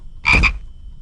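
A single loud, brief frog croak, close and rasping, standing alone against a quiet background.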